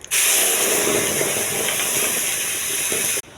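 Onion paste hitting a little hot oil in a pan while making a makhan curry gives a loud, steady, close sizzle that holds without a break for about three seconds, then cuts off abruptly, with no voices.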